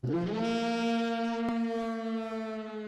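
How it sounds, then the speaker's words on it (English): A long, steady war horn blast with a rich buzzing brass tone, held loud for about three seconds with a brief click partway through, for orchestral fantasy battle music. "something I want to add that I love is a war horn"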